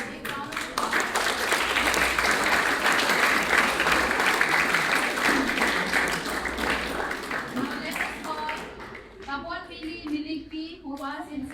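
Sustained crowd applause at a school Class X graduation day ceremony, loud and continuous for several seconds before fading, with a voice speaking over the tail end.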